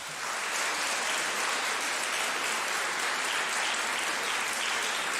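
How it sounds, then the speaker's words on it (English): An audience gives a round of applause for the Super Eagles at an awards show, a continuous, even roar of clapping that builds in quickly and stays full and steady throughout. "Please, a round of applause for the Super Eagles."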